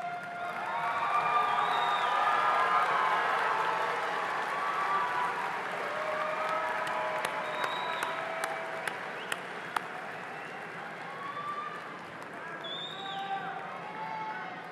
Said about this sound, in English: Graduates, please stand, find your families and friends, and give them a round of applause and thanks.